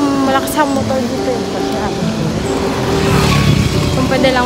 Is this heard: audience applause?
no